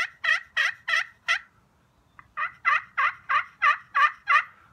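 A hand-held turkey call imitates hen yelps, each note starting high and dropping into a rasp. Four quick yelps are followed by a short pause, then a longer run of about eight in steady rhythm, close and clear with no talking.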